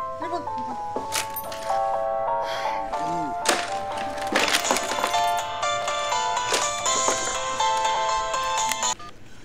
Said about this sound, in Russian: Телефон!